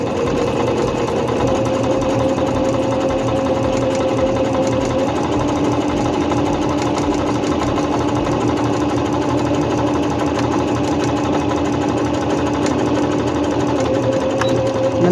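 A Singer C5605 electronic sewing machine stitches a straight seam with backstitching, giving a steady, close, fast mechanical whirring hum that runs continuously and evenly for fifteen seconds.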